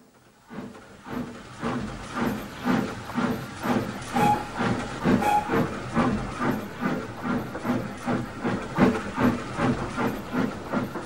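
A steam locomotive vents steam in strong rhythmic chuffs, about two hissing bursts per second, loud and close, with a brief whistle-like tone in the middle and no talking.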